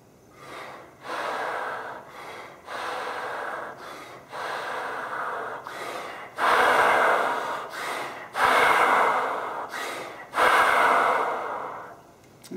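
A person demonstrates breathing, first with the belly and then the correct way, producing a steady series of about six loud, airy breaths, each a second or more long, close to the ear with short gaps between them.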